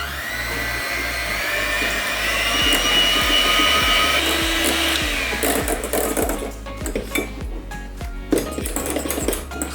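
A steady electric mixer whips chilled chocolate cream, whirring continuously with rhythmic clicking, loud and close, its pitch shifting partway through.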